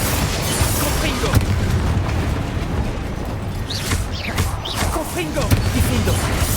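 Confringo blasting spell in the Hogwarts Legacy video game, deep rumbling booms and crackling bursts mixed with other game effects, loud and sustained, with a voice speaking over parts of it.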